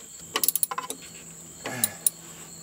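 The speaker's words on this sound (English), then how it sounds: "But I still need to tighten it up, so I'm going to do that real quick" Ratchet wrench tightening a bolt during installation of an engine in a 1977 Camaro: a quick run of rapid metallic clicks, then a short scrape and a couple more clicks, close and fairly quiet.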